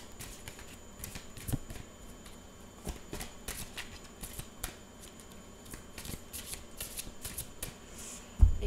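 Tarot cards are shuffled by hand for a reading, a rapid, close series of riffling flutters and soft slaps, with a sharper knock at the end as a card is drawn. No one speaks.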